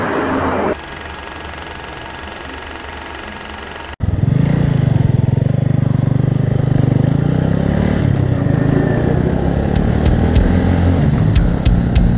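A touring motorcycle that has covered about 15,000 km rides along. A quieter passage is cut off by a sudden jump to a loud, steady engine roar with wind rush, close and continuous to the end, with no voices.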